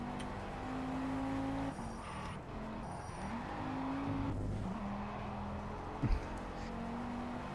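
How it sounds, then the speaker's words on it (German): A race car engine drones and shifts pitch as it drives in Project Cars, with brief tire squeal and a short thump, moderately loud and continuous. "Ich muss Auto fahren"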